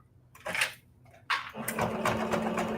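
A sewing machine runs in two short bursts of stitching on quilted fabric, near and fairly quiet, with a pause between.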